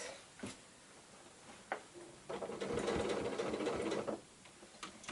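A sewing machine stitches through the bulky layers of a quilted drawstring bag, with short ticking bursts and then a steady run of rapid mechanical whirring, close and fairly quiet, with no talk.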